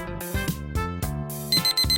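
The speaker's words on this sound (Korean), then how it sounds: "알람이다" Cartoon alarm clock going off, a bright repeating melodic ring with a high electronic beep joining near the end, close and clear.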